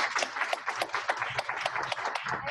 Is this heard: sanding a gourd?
no